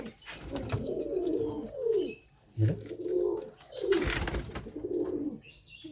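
Domestic pigeons coo up close in a clear series of about four rolling, throaty phrases with short pauses between them.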